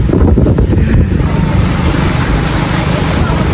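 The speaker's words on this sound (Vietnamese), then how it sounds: "Cái đây sóng dỗ quá các bạn." Loud waves crash on the shore near the Duyen Hai wind farm in Tra Vinh, a dense roaring surf mixed with heavy wind buffeting the microphone throughout.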